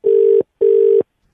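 A telephone rings twice in loud, even bursts of a steady tone separated by a short gap, close and clear with no talk over it.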